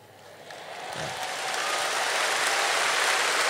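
Crowd at a leaders' dialogue session with the Second Finance Minister swells from a quiet room into sustained broadband applause and cheering, growing louder and holding steady to the end.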